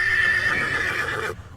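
A horse gives a loud, close whinny in a Thomas & Friends episode, one long shrill neigh that drops in pitch and cuts off abruptly.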